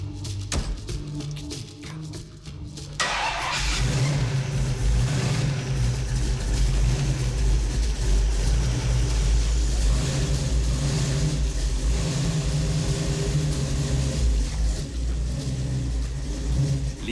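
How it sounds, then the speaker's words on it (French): A 600 hp hot rod engine catches after a quiet moment and settles into a loud, deep, continuous rumble with a steady idle throb. "Les 600 forces du moteur grondent au premier quart de tour."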